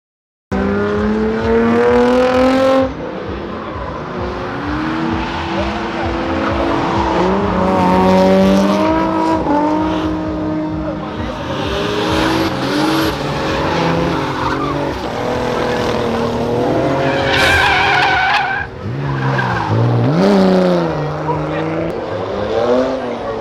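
A BMW drifts on asphalt, its tires squealing in long wavering screeches over a revving engine. The sound is loud and continuous, with a short pause near the start.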